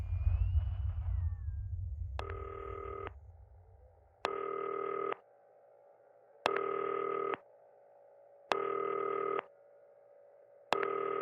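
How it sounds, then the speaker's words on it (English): A telephone rings in the video game Not For Broadcast, repeating as evenly spaced electronic ring bursts with short gaps between them, heard alone and clean after a fading musical tone at the start. "it sounds like someone's calling me."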